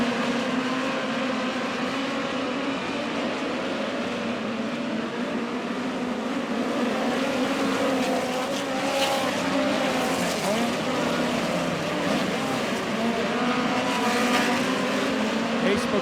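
Midget race cars roar side by side at Lake Ozark Speedway, a continuous loud engine drone with a crowd wash beneath, while an announcer talks over it.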